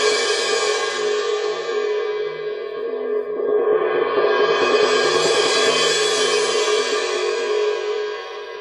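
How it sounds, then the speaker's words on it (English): A sustained cymbal roll with soft mallets, a continuous washing shimmer that dips briefly, then swells back up and holds steady before tapering slightly. "we might roll with these on the cymbal"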